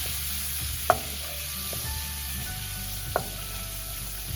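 Minced garlic sautéing in hot oil for pav bhaji, a steady close sizzle with two sharp clinks of a utensil against the pan.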